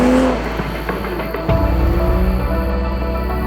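A Toyota GR Supra with a manual gearbox and a turbocharged 3-liter inline-six B58 engine idles and then revs, with a loud, close engine note that jumps sharply partway through and holds a steady, rumbling drone.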